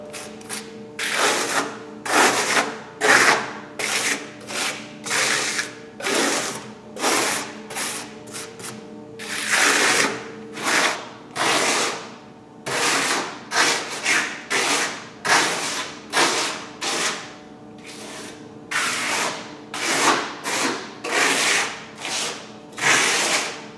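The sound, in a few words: trowel applying eco stucco plaster to a wall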